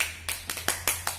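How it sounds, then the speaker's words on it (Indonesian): A few separate claps in a microteaching class, about five sharp hand claps spaced evenly, faint and close in an otherwise quiet room. "beri tepuk tangan"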